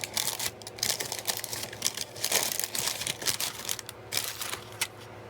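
Craft blade slicing along the edge of a paper card, a run of close, dry scratchy crinkles and small crunching rasps with brief pauses between strokes.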